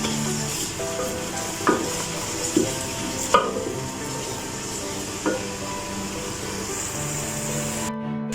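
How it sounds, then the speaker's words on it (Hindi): Ginger garlic paste fries in oil in a cooker with a soft steady sizzle, broken by several sharp clicks and taps of a spoon against the metal pot, then cutting off abruptly at the end. "अब इसमें मैं डाल रही हूँ ये जिंजर गार्लिक पेस्ट। इसको हल्का सा फ्राई करेंगे।"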